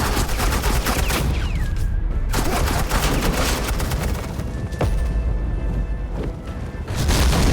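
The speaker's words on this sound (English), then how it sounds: "suppressing fire." Dense suppressing gunfire in Batman: The Enemy Within fills the whole stretch, continuous loud volleys with a few short gaps and booming impacts.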